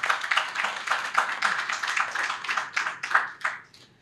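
Audience applause at a general assembly in Senegal, a brisk run of hand claps from a modest crowd that tapers off at the end.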